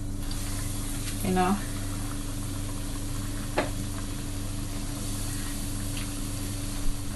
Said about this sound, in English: I'm going to fry it now.